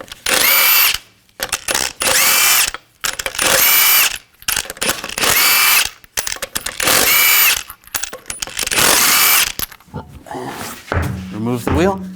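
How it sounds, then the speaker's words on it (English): Impact wrench or power drill spinning off the 22mm lug nuts of a 2014-2018 GMC Sierra 1500 front wheel: loud, close whirring bursts, about six in a row with short pauses, ending with ratcheting clicks and clunks. "Use a 22mm socket to take the lug nuts off."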